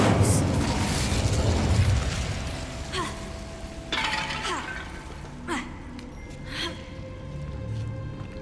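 Incendio fire spells cast repeatedly on hard mode in Hogwarts Legacy: an opening roaring blast followed by several sharp crackling, shattering bursts at spaced intervals, each with a ringing magical tail, over steady game ambience.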